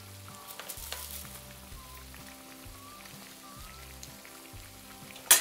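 Small yogurt doughnuts fry gently in oil over moderate heat, giving a steady, soft sizzle and crackle under quiet background music, ending in a brief louder clatter.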